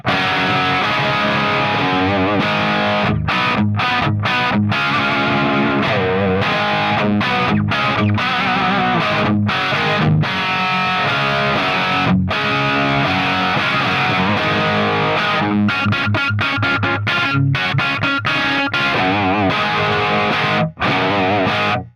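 Electric guitar through a SonicTone '67 Special 50W British-style tube amp plays loud, distorted rock riffs with crunchy chords and short stops, continuous and close.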